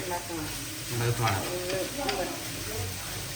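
Crab coconut roast sizzling and frying in a pan while being stirred, a steady hiss with occasional scraping strokes of the spoon, close and continuous.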